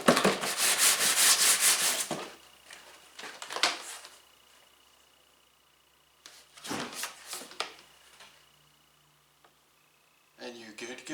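Sandpaper scrubs back and forth over a plastic litter box surface in bursts, with pauses between strokes, close and fairly loud.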